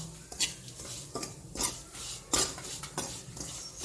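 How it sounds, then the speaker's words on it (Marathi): Fenugreek seeds roast in a pan with just a dab of oil: quiet, repeated spatula scrapes and light metallic taps recur every half second or so against a faint low hiss. "हे थोडंसं कणभर तेल घालून भाजून घेते आहे जरा रंग बदलेपर्यंत"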